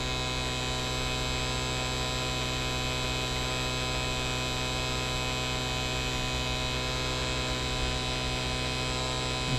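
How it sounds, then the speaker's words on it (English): A NAVTEK 2CFM cordless vacuum pump runs with a steady, low electrical hum and faint buzzing overtones. The sound stays unchanged and fairly quiet throughout, with no speech. "Half a toe on the NAVTEK 2CFM cordless vac pump."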